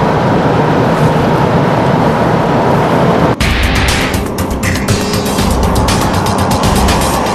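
A Michelin test car on Michelin tyres makes a lane change, a steady, loud roar of engine and tyres on the road that shifts abruptly partway through into a rougher, more varied rush.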